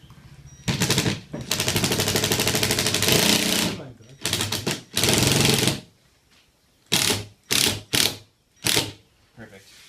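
An impact driver runs during assembly of a Little Dragon kit, giving loud rattling, hammering bursts: several long runs at first, then four or five short spurts spaced apart.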